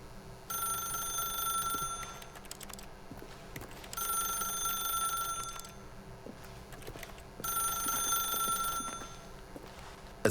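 A telephone in the video game The Stanley Parable rings in three separate bursts of bright bell ringing, each about two seconds long, with quiet pauses between them over a steady low background.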